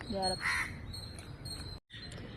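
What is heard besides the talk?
crow cawing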